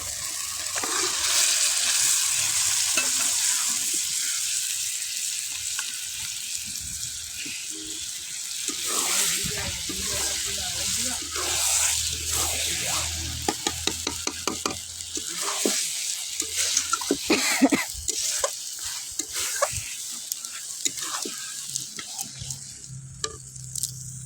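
Mutton cooking in oil with spices, salt and turmeric, a steady sizzle that turns into clattering stirring and scraping in the pot, with rhythmic knocks toward the end.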